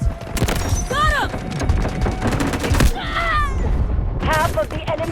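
Artillery barrage in the Delta Force Mobile war game, dense continuous booms and rapid gunfire rolling together at high volume, with voices speaking over the battle.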